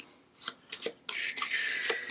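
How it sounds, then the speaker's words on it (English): Cards for the Arkham Horror board game being shuffled by hand: a few quick riffling snaps, then a longer close riffle, with no talking. "Shuffle, shuffle, shuffle, shuffle, shuffle, shuffle. Just keep shuffling."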